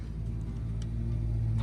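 Engine of a 4x4 off-road car running in first gear, a steady low rumble with a faint rise toward the end, close and fairly quiet, no talking.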